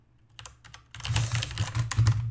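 Rapid clicking on a computer keyboard during Minecraft play, a few sparse taps followed by a dense burst of fast, close typing.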